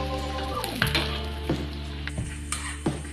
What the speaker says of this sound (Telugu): కొబ్బరి ముక్కలు వేగిన తర్వాత బాదం, జీడిపప్పులు కూడా వేయించుకోవాలి.